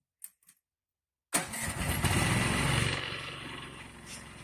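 A homemade tractor with a Honda GX440 engine and a Muravei gearbox cranks and catches after a brief silence, then settles into a loud, steady running rumble, close by.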